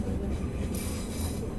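A two-car train pulls into Perth station, its wheels squealing steadily against the rails over a continuous low rumble, loud and close throughout.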